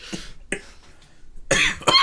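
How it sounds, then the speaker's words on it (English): Several sharp coughs: two short ones, a pause, then two louder, harsher bursts close to the listener. "When I laugh, I cough."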